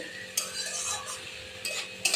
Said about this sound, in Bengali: এবার আমি নাড়বো চাড়বো